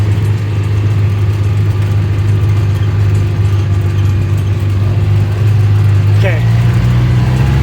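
An ATV engine idles and runs with a steady low, droning hum on a Wyoming farm, holding close and even throughout. A voice speaks briefly over the engine.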